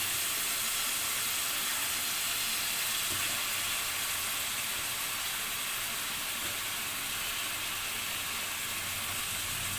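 Onion dropped into a hot pan for a beef roast, sizzling as a loud, steady broadband hiss that fills the whole stretch without a break, with no voice over it.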